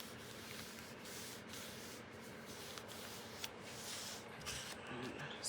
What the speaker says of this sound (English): by rubbing on them a little bit so that they fold nicely